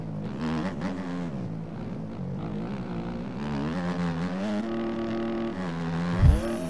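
A motocross bike engine in the MX Bikes racing game, revving and feathering continuously with a wavering, buzzy drone that rises and falls, and a short thump near the end.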